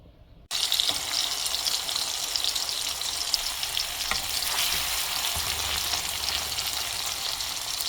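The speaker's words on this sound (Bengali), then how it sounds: "এখন ডালটাকে বাগা দিয়ে নিচ্ছি" Hot spiced oil poured onto cooked lentils for tempering, erupting into a loud, continuous sizzle after a brief quiet start and holding steady throughout.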